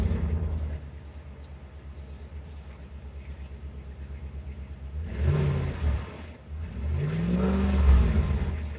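A Ram Rebel pickup truck with its stock exhaust idles with a low rumble, then revs twice, the engine note rising and falling each time before settling back to idle.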